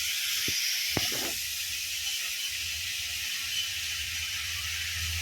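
Chopped bottle gourd goes into a hot pan with a small splash of water, giving a sharp clack and burst of hiss that settles into a steady, moderate sizzle.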